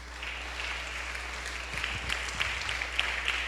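A church congregation claps together in steady, moderately loud applause that thickens slightly toward the end, heard over a low background hum.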